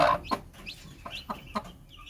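Hen and newly hatched chicks from a natural hatch, giving soft repeated clucks and short peeps spaced through the moment, fairly close with a quiet background and no talk.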